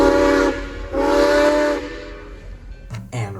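Steam locomotive 4960 of the Grand Canyon Railway sounds its whistle in the high desert, two loud, close, chime-like blasts, the second longer, followed by a brief hiss of steam and short clanks.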